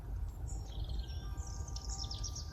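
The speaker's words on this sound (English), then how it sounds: "The birds are telling us that they're very happy with the new custodians." Birds chirp and sing in a high, continuous outdoor chorus with busy overlapping calls, fairly faint over a steady low background rumble and no talking.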